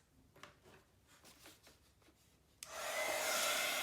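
A handheld heat tool switches on abruptly after a few soft rustles and handling sounds, then blows a loud, steady hiss while drying distress ink on paper craft tags.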